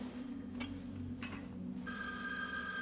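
In the video game Erica, a telephone begins ringing after a couple of faint knocks, its bell starting abruptly and continuing near and clear.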